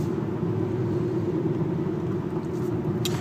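Steady low rumble from an Infiniti G35 engine with the intakes removed, a moderate continuous drone with no talk over it.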